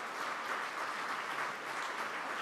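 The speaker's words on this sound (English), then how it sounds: "Let's give them a round of applause." Rotary club meeting audience giving a round of applause, even and sustained clapping from a room of people, moderately faint.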